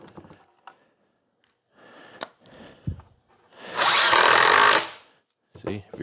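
A power drill drives a screw into wood while assembling migratory beehive covers: short whirring bursts, then one longer, louder run of about a second, with a person talking around it nearby.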